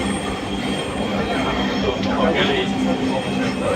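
A crowded metro rail train runs with a loud, steady rumble, rail squeal and faint clatter, with voices murmuring beneath the noise.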